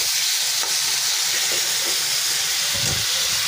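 Chopped tomatoes frying in a pan for bhindi masala, a steady loud close sizzle and hiss with faint stirring bumps underneath, no talk.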